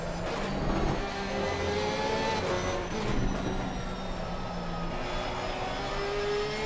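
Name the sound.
Porsche race car engine onboard at Suzuka, from a video game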